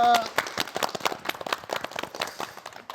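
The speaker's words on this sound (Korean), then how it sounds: "응원의 박수 보내드리고" A short burst of scattered clapping from a small crowd, uneven and close, fading slightly over a few seconds.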